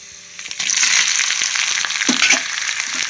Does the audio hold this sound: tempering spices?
yes